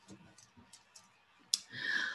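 Keyboard keys click quietly in a steady run of about five taps, followed by a sharper click and a brief burst of louder rustling noise.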